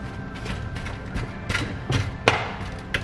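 A utensil presses vegan taco meat down in a pan, giving a series of dull thuds and knocks in an irregular rhythm, close and moderately loud.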